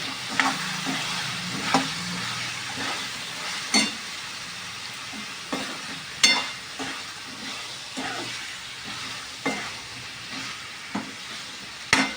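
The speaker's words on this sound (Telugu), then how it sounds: "ఆనియన్, టమాటా, అల్లం వెల్లుల్లి పేస్ట్, ఇది కూడా వేసేసి బాగా మిక్స్ చేసుకోవాలి" Onion, tomato and ginger-garlic paste fry in a pan for chicken curry, a steady sizzle broken by repeated scrapes and knocks of a spoon stirring through, with no talking.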